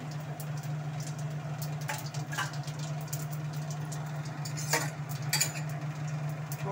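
Dried chillies, bay leaves and whole cumin seeds sizzling in hot oil in a wok, a steady soft hiss over a low hum, with scattered light clicks and scrapes of stirring and no talking.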